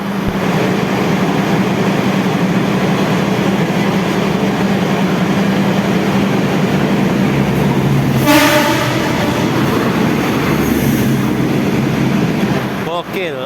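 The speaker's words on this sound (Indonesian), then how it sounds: "Argo Bandara melintas langsung Wates" The Argo Bandara airport train passes straight through Wates station without stopping, a loud steady rumble of wheels and cars with a horn blast partway through and clatter near the end.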